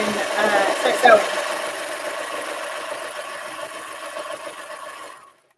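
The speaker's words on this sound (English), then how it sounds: "I'm just going to serge one of the or two of the edges, I think." A serger overlock machine runs steadily while trimming and finishing the edges of a fabric piece, a fast continuous mechanical whir with a brief louder clatter near the start, then cutting off abruptly just before the end.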